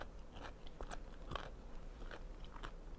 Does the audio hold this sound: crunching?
yes